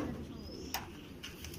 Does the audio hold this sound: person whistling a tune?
no